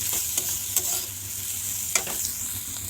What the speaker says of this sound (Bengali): তো এখানে দেখো হচ্ছে উচ্ছে ভাজা